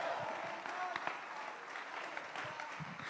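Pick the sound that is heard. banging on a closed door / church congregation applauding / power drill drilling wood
church congregation applauding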